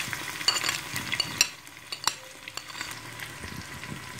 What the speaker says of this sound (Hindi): इसमें मैं अदरक लहसुन का पेस्ट डाल रही हूँ